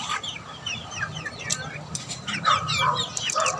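Young gamecock chicks handled for deworming, with a busy flurry of high chirps, clucks and peeps from several birds nearby, some wing flapping and brief low human talk underneath.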